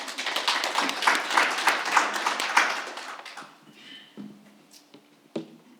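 Audience at an authors' forum gives a round of applause: dense, lively clapping for about three seconds that thins into scattered individual claps and then fades out.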